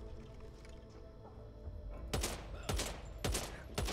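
Gunfire in Back 4 Blood: after a quiet stretch of game ambience, four sharp, loud shots ring out at roughly even intervals.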